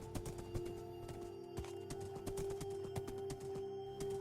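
Horse hooves clip-clop steadily during a ride in a blocky survival video game world, a rapid repeating patter of clicks over a constant humming background tone, with the occasional whinny-like cue.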